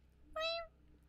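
A person imitates a cat meow with a single short, rising-then-falling vocal cry, clear and close, brief against a quiet background.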